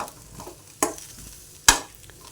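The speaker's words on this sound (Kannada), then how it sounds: "ಈಗ ಒಂದು ಕಡಾವಿಗೆ ಒಳಗೆ ಹಾಕ್ಕೊಂಡು ನಾನು ಹುರ್ಕೋತಾ ಇದ್ದೀನಿ" Dry corn kernels roasting in a kadai with no oil, a faint background crackle broken by two sharp, distinct scrapes or stirring strokes, close and otherwise quiet, with no voices.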